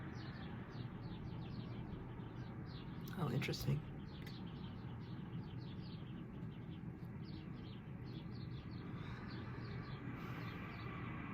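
Faint, repeated bird chirps sprinkle the background outdoors while a person talks steadily over them.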